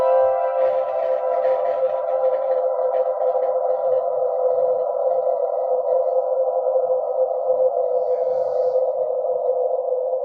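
A sustained guitar tone through a Chase Bliss 1978 reverb pedal rings out with a long, smooth reverb tail that holds steady and fades very slowly.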